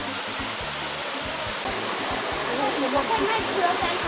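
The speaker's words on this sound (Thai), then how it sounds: "อันนี้เป็นลักษณะของทานน้ำไหลของน้ำตกตาดบงนะครับ" Tat Bong waterfall in Thailand, where a stream pours down from a height onto rocks below, roars as a steady, loud rushing wash, with a voice speaking over it.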